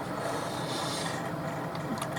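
Hand sanding of wood by a single worker, a steady close rasping scrape that runs continuously and evenly throughout with no talking.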